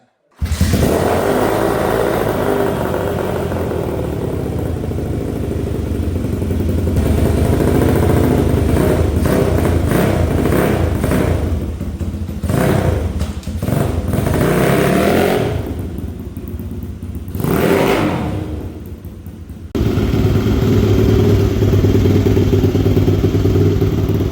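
An engine-swapped pit bike runs and rides close by, its motor droning loud and steady with shifts in revs, dips where it eases off, then a return to a strong, sustained roar.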